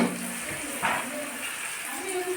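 Oil sizzles steadily in a pan as ingredients fry for chicken dum biryani, a soft continuous hiss with a brief stir partway through, under a quiet voice.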